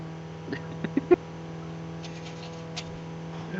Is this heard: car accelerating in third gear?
yes